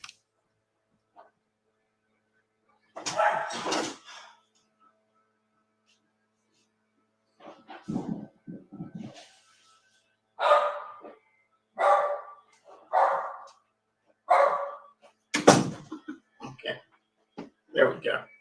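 A dog barks in several separate bursts across an indoor room, moderately loud and close, with speech probability high so a person may be talking around the barks.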